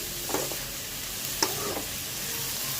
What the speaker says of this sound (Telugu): ఉల్లిపాయలు వేసుకున్న తర్వాత బాగా కలుపుకొని మధ్యలో అడగంటకుండా కలుపుతూ ఉండాలి.